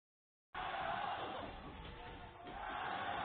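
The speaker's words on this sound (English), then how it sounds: "Non-stop cheering for this gold medal match." A loud, steady roar of an audience cheering nonstop at a League of Legends esports gold medal match, a dense crowd with no single voice standing out.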